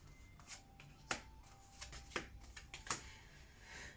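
Tarot cards shuffled by hand before a card reading, several quiet riffling bursts with soft slaps at an irregular rhythm over a faint hum.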